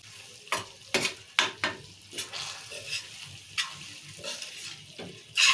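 Peanut and coconut powder are stirred into a frying pan for an egg curry, producing a soft sizzle broken by repeated scraping stirring strokes, some louder than others, close by with no talk.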